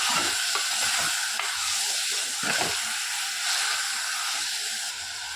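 Spices sizzle and hiss steadily in a hot pot while a utensil scrapes and stirs now and then, with no voices.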